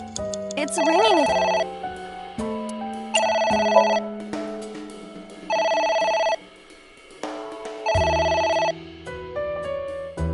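A telephone rings in the video game AI: The Somnium Files, with repeated electronic ring bursts in a regular on-off pattern alongside game music and tones.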